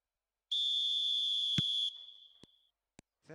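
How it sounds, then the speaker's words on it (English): A referee's whistle in the football video game eFootball 2026 gives one long, loud, steady blast, followed by a few short clicks and thumps and then the start of a voice. "There's the whistle, and here we go."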